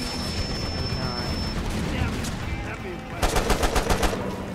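Gunfire in the video game Mercenaries 2, a rapid burst of repeated shots near the end, loud and close, after a stretch of game ambience with faint voices.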